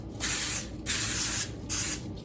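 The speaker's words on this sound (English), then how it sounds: "We are going to spray our cups with some Pam." Three hissing bursts of aerosol cooking spray into cups, each lasting about half a second, sprayed up close with short pauses between them.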